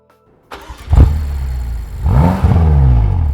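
A 2013 BMW M6 Convertible engine starts up, then revs loud and close. It climbs through a couple of strong rising and falling sweeps with no talking over it.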